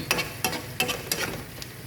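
Chicken with radish, ginger, cumin and garlic paste frying in a pan, with about five brisk rhythmic stirring scrapes over a steady close sizzle.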